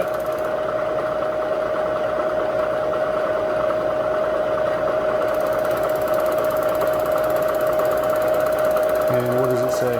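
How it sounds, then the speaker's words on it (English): An audible edge finder mounted in a spinning machine spindle gives a steady, even buzzing tone that runs unbroken over the continuous hum of the machine, close and fairly loud throughout. "I've got the audible edge finder mounted now."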